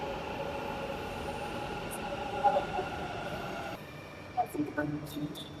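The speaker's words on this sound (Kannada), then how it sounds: "ಸೊ ಬಂತು ನಮ್ಮ ಮೆಟ್ರೋ" A metro train pulls into a station with a steady rolling hum and faint wheel squeal, then slows to a lower drone as it stops, while voices murmur nearby.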